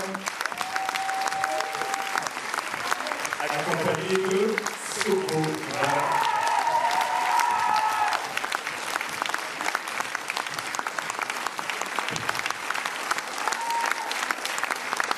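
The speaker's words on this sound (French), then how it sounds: "je vais demander de vous applaudir" Audience applause at a Paris film premiere, steady and dense clapping from a large crowd throughout, with a person speaking over it now and then.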